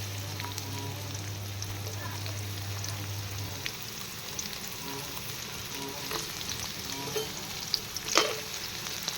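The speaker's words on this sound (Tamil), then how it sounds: "இப்போ வெங்காயம் போட்டுக்கணும். வெங்காயம் வெள்ளைப்பூடி ரெண்டுமே போட்டுக்கணும்." Onion and garlic fry in a pan for bottle gourd chutney, giving off a soft, steady sizzle with a few louder pops and crackles. A low hum runs under the first few seconds.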